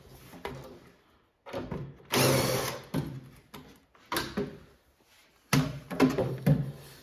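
A power drill working inside a Wizard of Wor arcade cabinet during a restoration, whirring close up in a series of short, uneven bursts with brief pauses between them.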